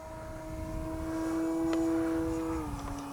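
An XCub RC airplane flies overhead with a steady propeller drone that swells as it passes closer, then its pitch drops slightly as the plane pulls away, heard alone without talk.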